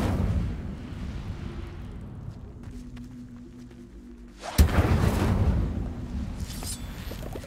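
Incendio fire spell cast in Hogwarts Legacy: after a quieter low rumble, a sudden whooshing burst of flame bursts in loudly and keeps roaring for a few seconds.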